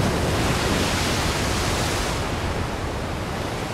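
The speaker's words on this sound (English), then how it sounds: "Waves are smashing and crashing on the rocks up there. The wind is picking up." Waves smashing and crashing on rocks at an island shore while wind picks up, a continuous dense roar of surf and gusting air, loud and unbroken throughout.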